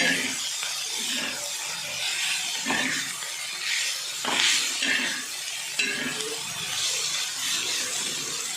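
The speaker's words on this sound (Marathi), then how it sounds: "पाणी घालून घेतल्यानंतर चांगलं परतून घेतो भाजी" Leafy greens with water added sizzle and hiss in a pan as they are stirred, a steady frying noise with a few sharper scrapes, close and alone with no talk.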